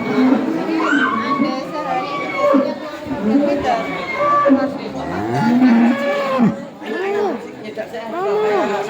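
Dairy cows on a farm moo repeatedly in long, bending calls, fairly close and loud, mixed with the steady chatter of a group of children and adults talking over them.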